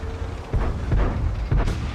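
Tank cannon fire from an IS-3 heavy tank in a video game, with a few deep, heavy booms spaced about half a second apart over a low rumbling background.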